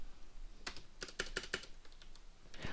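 Quiet clicking of keys on a computer keyboard, a short run of distinct taps in a steady rhythm close by, with no talking.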